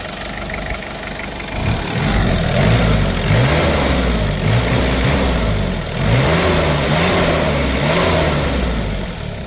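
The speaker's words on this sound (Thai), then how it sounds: "ไม่ไอ ไม่พ่นเดี๋ยวจะเร่งให้ดูนิดนึง" A Mitsubishi Strada 2.5 turbo pickup engine runs loud and close, idling steadily and then revving up twice in smooth swells that settle back to idle.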